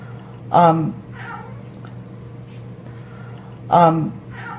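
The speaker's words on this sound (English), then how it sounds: "A cat just came home." A cat meowing twice indoors, each a clear drawn-out meow a few seconds apart, close and moderately loud over a low steady hum, with no voices.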